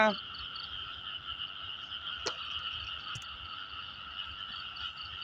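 Frogs croak in falling rain as a steady, faint, trilling chorus that runs the whole time, with a couple of sharp clicks standing out briefly.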